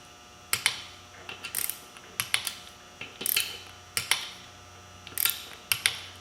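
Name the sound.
tightening beadlock rim bolts on a Polaris Ranger tire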